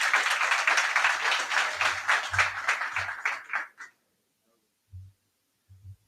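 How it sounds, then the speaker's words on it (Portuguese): An audience claps at an agricultural event on beef cattle farming, a dense steady round that fades out after about four seconds, with low thumps during it and briefly afterward. "Vamos recebê-lo? Com salva de palmas."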